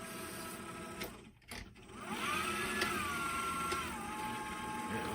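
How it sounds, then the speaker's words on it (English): An electric mixer blends banana cake batter with chocolate chips in a home kitchen, a steady whirring drone that starts after a couple of clunks and shifts pitch slightly as it runs, faint and without talk. "we're gonna blend it all together"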